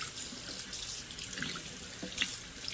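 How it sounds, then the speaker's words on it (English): Tap water runs steadily into a sink as freshly cleaned fish are rinsed under it, a continuous splashing stream with small shifts as the fish move through the flow, no voices. "And just rinse them off really good."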